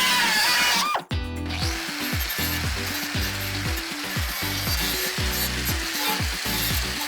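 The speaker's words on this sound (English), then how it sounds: "let's drill a hole inside here" A power drill whirs steadily in repeated bursts after a brief pause, drilling a hole in a scooter body part, loud and close, its motor pitch rising and falling with each press.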